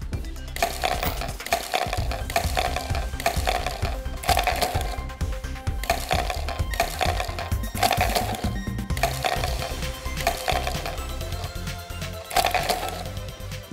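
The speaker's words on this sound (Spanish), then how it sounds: "Vamos a poner los hielos y probamos." Ice cubes are dropped into plastic bottles for a homemade air cooler, making repeated loud clattering knocks and rattles at a steady, uneven rhythm, close up, for several seconds.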